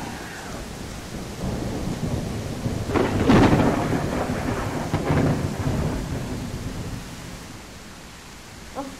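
A thunderstorm with heavy rain rumbles loudly throughout, with a strong roll of thunder swelling in the middle over a steady hiss of rainfall.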